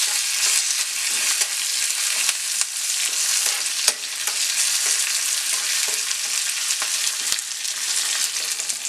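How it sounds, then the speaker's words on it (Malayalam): Onions and curry leaves fry in a pan for a Kerala-style taro curry, giving a continuous sizzle with repeated scraping stirs and occasional spoon clicks against the pan, close and steady, with no voices. "ഇതിലേക്ക് അല്പം കറിവേപ്പില ചേർത്ത് കൊടുക്കാം. ഇതെല്ലാം നന്നായിട്ട് ഇളക്കി"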